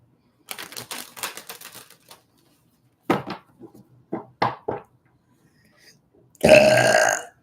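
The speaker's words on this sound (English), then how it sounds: "Spirit makes me burp for those of you who are new here." A person burps repeatedly during a live psychic reading session: a run of short, clipped belches, then a few isolated ones after a pause, and a final long, loud, drawn-out burp, each close and clear against silence.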